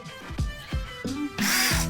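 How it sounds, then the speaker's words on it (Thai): A small, light cordless impact driver with a brushless motor drives a self-drilling screw into 1.5 mm steel box tubing. Short bursts of whirring and rattling hammering come in quick succession, then give way to a louder sustained hammering run at the end. "เดี๋ยวผมจะลองมายิงเหล็กกล่องให้ดู ยิงเหล็กดูว่ามันเป็นยังไงนะครับ"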